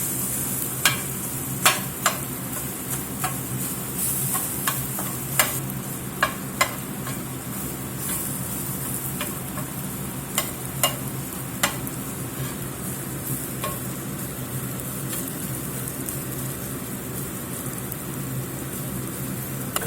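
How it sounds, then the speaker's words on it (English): Ground beef chopped and stirred with softened onions in a hot pan, a steady loud sizzle throughout with scattered scraping and tapping of the utensil against the pan. "We're going to go in here and chop this beef."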